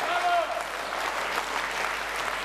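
An audience at a festive concert-hall event applauds, a steady wash of clapping from many hands throughout, with a brief whistle or tone at the start.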